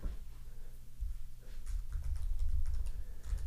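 Keys tapped on a computer keyboard while a create-user command is entered for a PostgreSQL database, quick close clicks in short uneven runs over a low room hum, with no voices.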